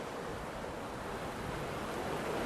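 Water pours out of a rock and runs under a small park footbridge, a steady, dense rushing wash heard close and continuous without a break.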